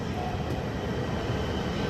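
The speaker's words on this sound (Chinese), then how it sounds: "高铁" A Hexie high-speed train runs past with a steady, loud broadband rumble and rushing roar, unbroken for the whole two seconds with no voices over it.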